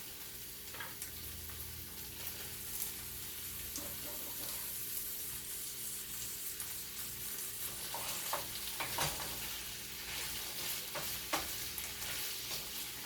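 Mixed vegetables are stirred into curry shrimp simmering in coconut milk, a soft steady bubbling sizzle with scattered spoon scrapes and clicks against the pan, close and fairly quiet, without talk.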